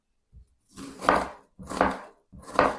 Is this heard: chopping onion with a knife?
yes